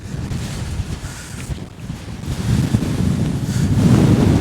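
Wind buffeting the microphone on a misty gritstone edge above a reservoir, a loud, continuous rumbling roar that swells in strength toward the end.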